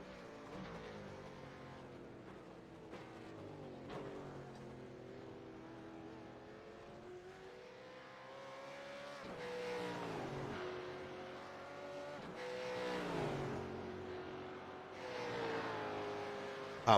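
Several race cars climb a hill, their engines revving hard and shifting through gears in overlapping waves, loud and continuous from moderate distance.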